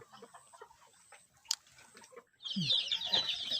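Village chickens raised on a farm cluck close by, a burst of squawking calls breaking out in the last second after quiet rustling and a sharp single click.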